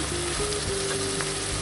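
Bacon sizzles as it is added to browned meat in a frying pan, a dense steady crackle and hiss that fills the short moment, close and loud with no voices.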